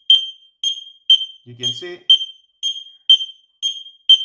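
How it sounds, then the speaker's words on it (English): X-Sense XS01-WR wireless mini smoke detectors sound a loud, close, high-pitched beep repeating about twice a second, with a brief spoken phrase over one beep. "You can hear this beep and then they will beep in this unit."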